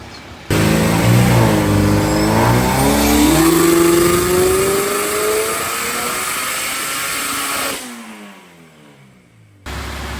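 A turbocharged K24-swapped BMW E30 on a dyno pull at 10 pounds of boost: the engine roars in close and rises steadily in pitch, then lets off, and the revs fall away before a brief renewed burst.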